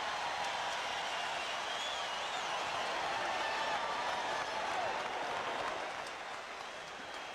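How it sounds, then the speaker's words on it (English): A basketball arena crowd applauds and cheers loudly after a play in a 1984 Lakers game, a dense sustained roar of clapping that stays strong before tapering slightly near the end. "Most of those people up cheering can't quite believe what they saw Rambis do"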